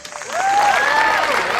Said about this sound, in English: So let's give a round of applause for Alex.